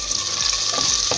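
Garlic and onion frying in a pan while being stirred, a close, even sizzle throughout a short stretch with a few soft scraping strokes, no talking.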